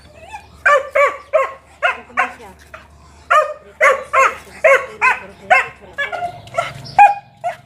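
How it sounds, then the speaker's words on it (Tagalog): Several dogs bark in a steady run of sharp, repeated barks with a few yips and whimpers, fairly close, with a faint voice underneath near the end. "Ito yung mga aso dito."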